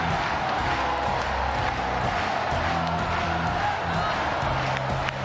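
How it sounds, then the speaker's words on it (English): A noisy goalball arena crowd cheers and roars steadily throughout, a dense, continuous wash of voices and applause at close, loud level with no pauses. "But as noisy as this crowd is now"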